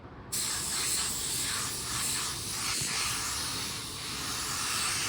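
Paint spray gun laying down car paint: a continuous loud airy hiss starting abruptly after a brief pause and holding steady throughout, with slight swells in intensity and no talking.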